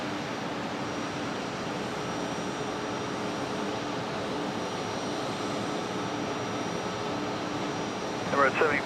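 A specially liveried Boeing 777-300 airliner taxiing at Brisbane Airport at dusk gives a steady, even broadband engine roar from a moderate distance, with a brief voice rising in near the end.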